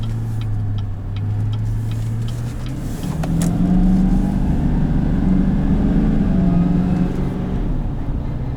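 A 2015 GMC Sierra 3500HD Denali pickup with a Duramax diesel engine drives in four-wheel drive, its low engine drone steady and fairly loud throughout, rising slightly midway as it pulls harder.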